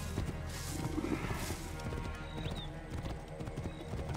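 Horse hooves clip-clop in the Assassin's Creed Origins video game, a steady rhythmic trot under ambient game sounds and faint background noise, fairly quiet throughout.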